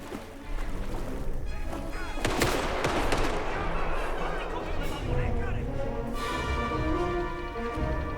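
Continuous gunfire in Indiana Jones and the Great Circle, dense and loud rapid shots with booming impacts over a busy game soundscape, with voices talking partway through.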